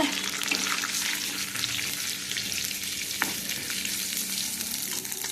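Garlic sizzles steadily in a hot pan, a dense, even crackle of frying that runs close and unbroken for several seconds, with one faint clink partway through and no voices.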